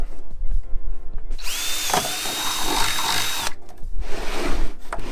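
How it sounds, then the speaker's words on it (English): A power drill with a 1/4-inch bit whirs loudly up close for about two seconds, boring a hole in a kayak crate, with clicks and handling noises before and after. "For this, I'm gonna use the 1/4-inch drill bit"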